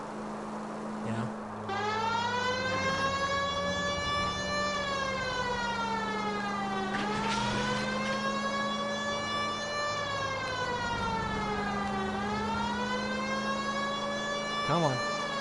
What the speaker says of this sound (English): if they listen to the siren